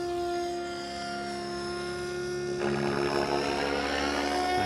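An RC model helicopter flying pirouetting loops, its rotor whine steady and tonal with a harsher, buzzier tail rotor noise rising midway as the tail pitch works harder, loud and continuous with no voices.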